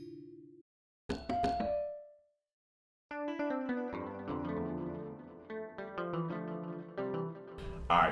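An ethereal pluck synth patch from Logic Pro X's Alchemy playing a short melody, bright plucked notes with reverberant tails, starting with a few isolated hits and a pause before a denser run of notes.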